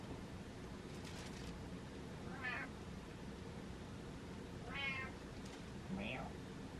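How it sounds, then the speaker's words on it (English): A house cat meows in a few separate calls, spread over several seconds against a steady background hiss, with faint human voice sounds nearby. "Meow."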